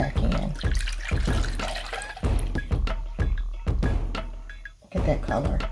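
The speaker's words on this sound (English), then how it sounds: "So we're just going to pour this back in." Thick homemade shingles relief salve mixture poured back into a container, a steady liquid trickle with splashy drips close up, with faint background talk.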